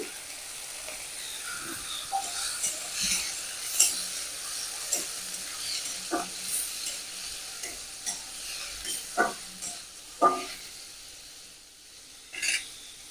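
Chopped potato frying with onions in a pan for egg-potato bhujia, a soft steady sizzle broken by a dozen or so sharp spatula scrapes and taps at irregular intervals, close and alone.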